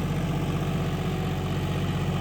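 A new John Deere 5210 4x4 tractor engine idles steadily, a loud, continuous low diesel throb with even vibration and no voices.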